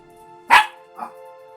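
A dog barks nearby: one loud, sharp bark and then a softer, shorter second bark about half a second later, over a quiet steady background hum.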